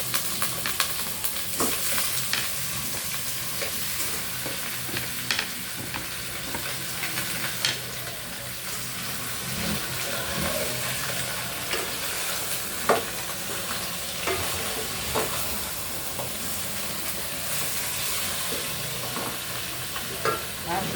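A kilo of chicken wings frying in a pan makes a loud, continuous close-up sizzle with frequent crackles and scattered stirring scrapes throughout.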